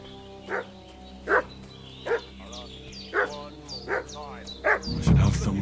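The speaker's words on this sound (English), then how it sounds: "What's that dog making such a fuss about?" A dog in the video game Kingdom Come Deliverance 2 barks loudly and insistently, about seven evenly spaced barks with a whimpering edge, close by, while a voice talks over the last part.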